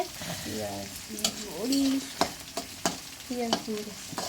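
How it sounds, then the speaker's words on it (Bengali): Onions and chilies fry in a pan with a steady sizzle, broken by sharp clinks and scrapes of a stirring spoon against the metal; a faint tonal hum runs underneath and no one speaks. "পেঁয়াজ মরিচ ভাজতেছে"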